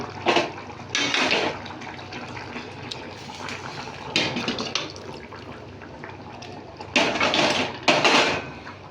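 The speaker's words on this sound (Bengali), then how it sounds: "অল্প জল দেবো" Water splashes into a pot of khichuri with rice, lentils, potato and eggplant, coming in several short close pours separated by quieter stretches.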